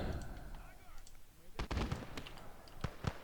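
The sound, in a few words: MG34 machine gun firing in Surviving Conquest Enhanced video game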